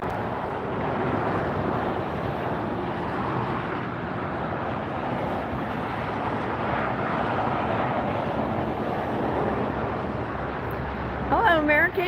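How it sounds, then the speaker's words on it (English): Delta airliner taxiing at LAX, a steady broad jet-engine roar mixed with wind noise throughout, a brief brighter whine near the end, no talking. "We have Delta taxiing up, ready to go."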